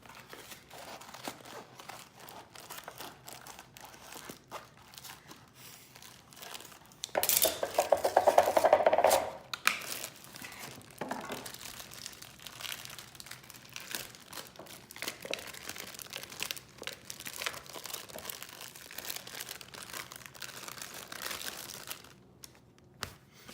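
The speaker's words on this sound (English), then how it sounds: "you have to put the mix in the bowl" Dry brownie mix poured and shaken from a crinkling packet into a bowl in a home kitchen, with a short loud rustling burst in the middle and quieter crackles and handling noises before and after.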